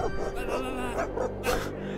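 A dog whimpers and yips in a video game, tonal and fairly close, over a steady low game soundscape with no speech.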